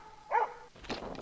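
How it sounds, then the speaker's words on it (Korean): A Swedish elkhound hunting dog barks in a mountain forest to signal a tracked elk to its handler, a single fairly distant bark followed by faint background noise. "엘크를 추적에 성공해서 보호자에게 짖어서 알리고 있습니다"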